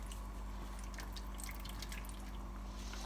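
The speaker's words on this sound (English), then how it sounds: "So 400 mils of coconut milk into the curry paste." About 400 ml of coconut milk is poured onto red curry paste for a chicken curry, a continuous close liquid gurgle and splash with a low steady hum beneath.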